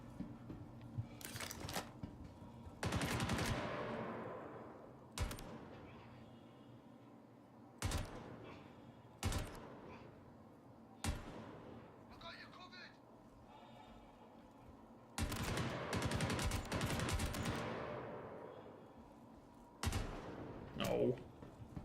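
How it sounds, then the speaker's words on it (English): LMG machine gun fire in the video game Star Citizen comes as separate loud bursts and sharp shots spread over the stretch, with quieter gaps between them. "I'm not gonna do very well in stealth getting shot at by an LMG."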